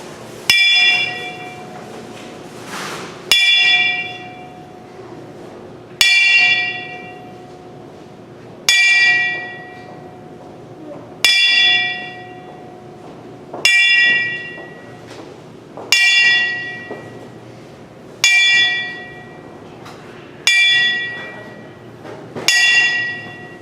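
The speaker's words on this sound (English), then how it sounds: "Let's take a look at the 10-bell salute for Ken Bowles" A wrestling ring bell is struck ten times in a slow, steady ten-bell salute at a tribute, each bright metallic clang ringing out and decaying before the next, clear and alone.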